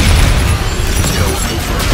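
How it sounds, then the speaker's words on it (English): Friendly bombardment in Call of Duty: Infinite Warfare, with heavy booming explosions rolling together into a loud, continuous barrage of deep rumbles and crackling bursts. "Friendly bombardment incoming."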